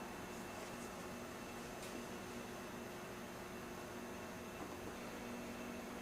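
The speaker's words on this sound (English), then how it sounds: "Vacuum this completely out." A steady, unbroken whoosh of a vacuum sucking out a screenless granulator, holding an even, moderately loud roar throughout with a faint hum beneath.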